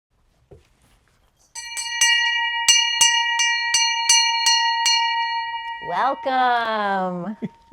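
A bell rings out about eight times in a steady, evenly spaced sequence, bright and resonant with long ringing overtones, then a short rising voice-like sweep follows near the end; a Sunday at sea setting.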